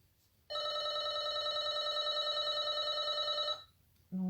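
A telephone rings with a single steady electronic tone lasting about three seconds, fairly loud and alone, then stops; another short tone starts just at the end.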